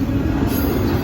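A model coal train rolls past at a train show, a steady, loud rumble with a faint high squeal over it, continuous for a second.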